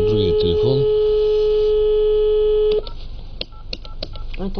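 A telephone being dialed: a long steady dial tone and tonal beeps, then a run of short separate keypad tones in uneven rhythm, fairly loud and close with faint background noise.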